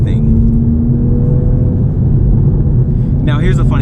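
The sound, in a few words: Toyota Supra 2020 accelerating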